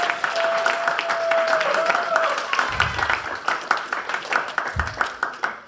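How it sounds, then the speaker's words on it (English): An audience applauding at the Roblox Developer Conference 2018 design track, dense clapping from a large crowd that thins into scattered claps toward the end, with a brief tone and some low thumps mixed in. "Always clapping."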